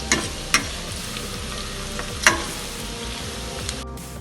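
Squid bajji, battered calamari fritters, frying in hot oil: a steady dense sizzle with occasional sharp crackles and pops, close and continuous, with no voices.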